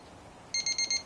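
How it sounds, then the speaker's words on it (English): A meat thermometer alarm goes off as a smoked turkey reaches temperature, giving four quick, bright electronic beeps in a row, close and clear over a quiet background. "sounds like we have a turkey alarm going off"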